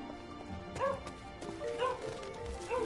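A dog in the video game Gravity Rush 2 yips and barks in short bursts about once a second, fairly close, over a soft game soundscape.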